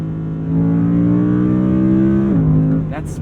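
Audi R8 Performance RWD coupe with a V10 and sport exhaust, heard from inside the cabin: a loud, steady engine drone that holds its pitch and then drops as the revs fall near the end.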